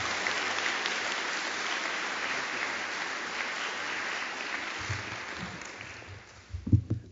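Lecture audience applauds to welcome a professor onto the stage, dense sustained clapping that fades out toward the end, followed by a few close knocks and thumps.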